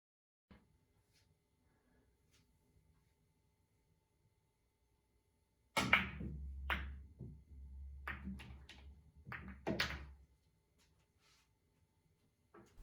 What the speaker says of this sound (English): the plan is for the 1 ball to send a line of balls down the rail, causing the 3 to pocket the 4